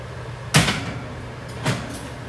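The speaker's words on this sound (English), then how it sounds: "So I'm going to open my oven door." A home oven door opened for baking a sour cream pound cake: a sharp close clunk followed by a second softer knock, over a low background hum.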